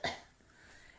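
A single short, faint cough at the start, followed by quiet.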